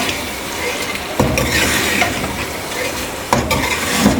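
Chickpeas fry with chicken in a pan for a chicken chana dish, a steady close sizzle with scraping stirs, two louder stirring clatters of spoon against the pan breaking through.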